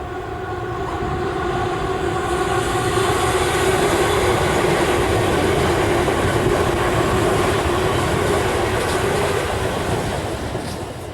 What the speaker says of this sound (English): that whirring noise you can hear is actually the sound of the wheels going over the rail grindings